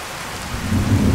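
Rain and thunder in the virtual-reality game Skyrim VR, a dull low rumble building over steady rainfall hiss, growing louder through the brief stretch.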